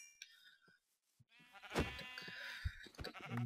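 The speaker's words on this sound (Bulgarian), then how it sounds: "Да, ето овце." Sheep bleating in the Minecraft video game, a few short wavering bleats in close succession, moderately loud, with brief quiet gaps between.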